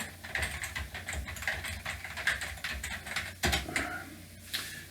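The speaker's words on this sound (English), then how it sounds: "let me just type that in there quick" Quick, light keystrokes tapping on a computer keyboard at a doctor's appointment desk, close and soft, in uneven bursts with brief pauses and one sharper clack near the end.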